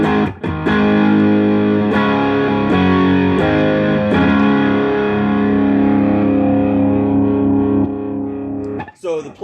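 Electric guitar played through an Ibanez TS9 Tube Screamer Plus overdrive pedal, loud and continuous with sustained distorted chords and a few re-struck notes, ending with brief fading strums.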